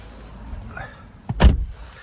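A car door on a 2022 BMW X3 facelift is handled as someone gets in: faint rustling and a small click, then a single solid thump close by.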